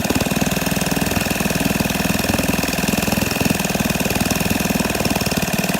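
A 1964 Wards Sea King 3 hp outboard motor idling after repair, a loud, close, steady rapid putter with an even pulsing beat throughout and no voices.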